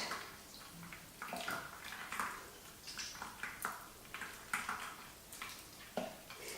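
Homemade oat milk is squeezed out of a nut bag, giving a soft continuous wet trickle and splatter with squelchy pulses as the bag is pressed, close and fairly quiet.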